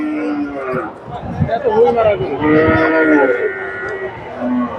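Dairy cows lowing among a crowd at a cattle market, several drawn-out moos rising over steady chatter and voices close by.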